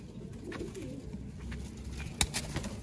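Low, soft cooing from a breeding pair of pigeons, faint and fairly close, with a sharp tap and brief rustle partway through.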